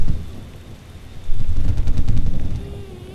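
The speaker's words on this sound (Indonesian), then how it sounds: "Suara petir kembali menggoncangkan hati Narti yang sedang diselimuti kecemasan." Thunder rumbles over steady rain as a storm effect, starting softly, then swelling into a loud rolling crack that fades after about a second and a half.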